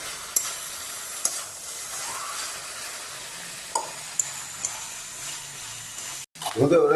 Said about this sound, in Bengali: আলুটা দিয়ে কিছুক্ষণ কষাবো জিনিসটা।